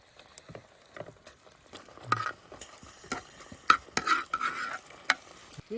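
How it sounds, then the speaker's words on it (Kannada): Sardine fish curry is stirred in a pan with a spoon, making irregular soft scrapes and taps that come in short bursts, close and fairly quiet, with no talking. "ಮೀನು ಹಾಕಿದ ತಕ್ಷಣ ಮಿಕ್ಸ್ ಮಾಡಬೇಕು"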